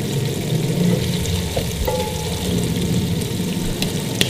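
Potato and cauliflower curry (aloo gobi) cooks in a pan with a steady close sizzle and bubbling, broken by a few light clicks of a spoon.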